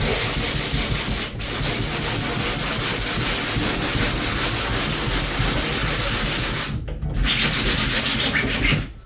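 A 3D printed Buster Sword prop being sanded by hand, with continuous close, loud rhythmic rasping strokes and two brief pauses.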